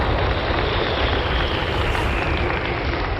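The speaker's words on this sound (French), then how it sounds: "Vous entendez ces réacteurs qui donnent maintenant toute leur puissance." The Concorde's jet engines roar at full power on the takeoff run, a dense, steady, loud blast with no break from start to end and no voices.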